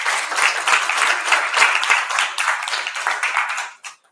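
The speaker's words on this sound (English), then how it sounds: "let's give another round of applause." Conference audience at an SEO event applauding, a dense, steady wash of many hands clapping close and loud, fading out near the end.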